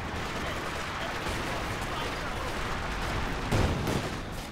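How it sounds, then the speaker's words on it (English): Mortar fire in Company of Heroes 2, a steady wash of battle noise with dull booming impacts and a heavier burst near the end, under a commentator's voice. "And mortars are still getting some good damage in."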